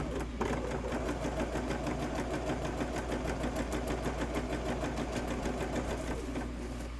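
A Husqvarna sewing machine runs continuously at an even, rapid stitching pulse over a low motor hum, fairly close and unbroken, with no voices.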